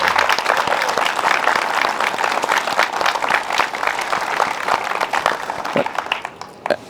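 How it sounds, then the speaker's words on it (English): Applause from an audience at an awards ceremony, many people clapping in a dense, lively patter that holds strong for several seconds before thinning out and tapering at the end. "all of them deserve applause"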